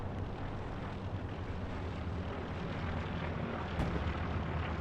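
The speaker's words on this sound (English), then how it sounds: "there's the plane" Propeller warplane droning overhead in the WWII shooter Hell Let Loose at St Marie Du Mont, a steady broad rumble filling the whole stretch with a slight swell near the end.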